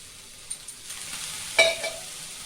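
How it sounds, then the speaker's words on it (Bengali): A splash of water sprinkled onto a hot dosa tawa to cool it bursts into one short, bright sizzle, with a faint scrape beforehand and a quick fading hiss afterward. "একটুখানি জলের ছিটা আমি এর মধ্যে দিয়ে তাওয়াটাকে একটু ঠান্ডা করে নেব।"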